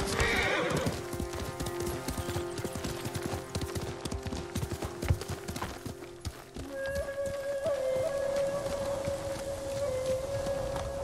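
A horse in Ghost of Tsushima gallops with a rapid clip-clop of hooves, rises into a loud whinny early on, and runs under a sustained musical drone through the later part.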